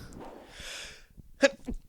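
A single quick sneeze bursts out close by after a moment of soft breathy noise, followed by a faint low sound.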